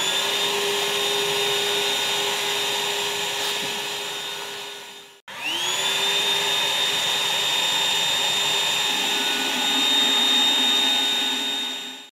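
A Ryobi 18V battery-powered wet/dry shop vacuum runs with a loud, steady high-pitched whine, briefly cuts out, then starts up again and keeps droning close by.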